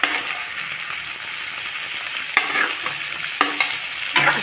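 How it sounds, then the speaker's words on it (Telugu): Okra, tomatoes and onions fry in a pan with a constant bright sizzle, broken by a few crisp scrapes and clatters as a spoon stirs them. "ఉప్పు వేసుకొని కొంచెం ఫ్రై చేసుకొని మూత పెట్టేయండి."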